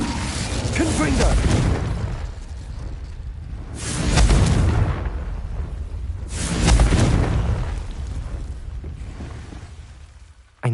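A Confringo blasting spell in the Hogwarts Legacy video game goes off as three heavy, rumbling booms spaced a few seconds apart. Each blast swells and decays over a low roar of game noise, with a voice heard alongside.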